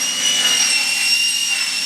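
Aluminium window workshop where frames are cut and assembled, with machinery running in a steady, loud drone and high whine, continuous and without talk.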